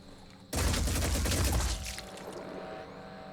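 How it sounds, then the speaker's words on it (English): A machine gun in the video game Phoenix Point fires one loud, dense burst lasting just over a second, then a quieter tail and background game ambience. "I only fired because I enjoy firing my machine gun"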